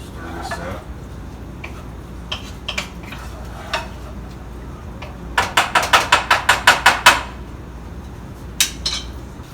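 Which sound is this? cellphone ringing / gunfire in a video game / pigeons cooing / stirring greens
stirring greens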